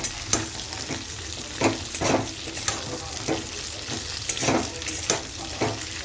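Food fries steadily in hot oil with a continuous loud sizzle, punctuated by regular stirring scrapes and clanks of a utensil against the pan.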